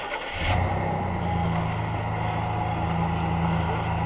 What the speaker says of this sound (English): Just open the door, start the truck